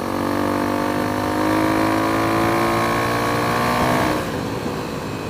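Kawasaki KLX300 dual-sport motorcycle with a new aftermarket exhaust, engine running loud and close with a rising rev that drops back to idle near the end, no talk.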